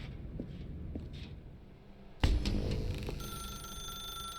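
A telephone rings inside The Stanley Parable game after a faint stretch, its bell starting abruptly mid-clip with a bright, sustained tone that carries on steadily to the end.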